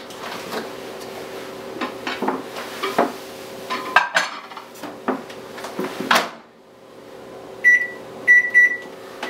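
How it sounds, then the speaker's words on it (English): A microwave oven hums steadily while broccoli steams in a glass bowl, with clinks and knocks of dishes and a door nearby, then a few high beeps near the end. "Now, you're going to steam it for 3 to 4 minutes in the microwave."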